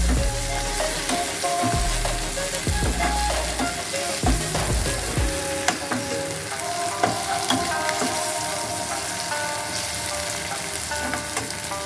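Chopped onions and tomatoes frying in a pan, a loud, close, continuous sizzle with stirring clatter and spoon scrapes throughout.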